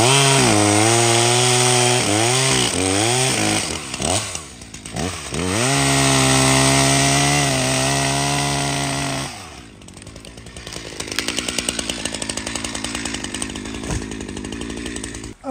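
ZimAni chainsaws felling trees in a forest, a loud close saw revving up and down in several bursts before biting into wood with a rough, sustained cutting drone.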